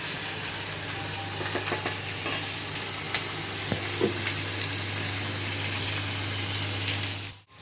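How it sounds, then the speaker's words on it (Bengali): Chicken pieces fry in onion-infused oil in a kadai with a steady, close sizzle and a constant low hum, broken by a few soft stirring clicks near the end. "একটু মাংসগুলো সাদা সাদা হয়ে ভাজা হয়ে গেলে তারপরে মশলাগুলো আমি দিয়ে দেবো"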